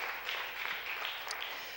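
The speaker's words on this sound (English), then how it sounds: "clap your hands and bless God all over the building this morning" A congregation clapping their hands together during a church service, a brief, soft wash of applause at some distance, steady and without clear individual claps.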